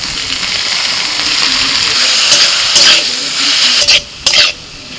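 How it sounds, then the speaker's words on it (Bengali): Shrimp and green chillies drop into a hot pan over fried garlic and chopped onion, raising a steady loud sizzle with brief stirring noises and short pauses near the end. "দুটো কাঁচা লঙ্কা এবার চিংড়ি মাছ দিয়ে দিচ্ছি"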